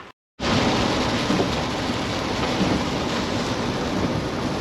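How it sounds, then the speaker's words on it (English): Heavy rain drums steadily on a car driving on the road, a loud, unbroken hiss that starts after a brief moment of silence and continues without any talk. "Rain the whole way."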